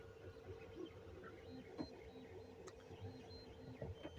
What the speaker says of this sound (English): that is how you can have a 3D printer working on a boat